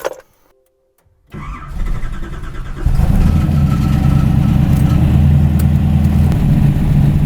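Chevrolet Nova with a BBC 598 big-block starts up with a short crank, then settles into a loud, rumbling run that swells as the car pulls away, close and continuous.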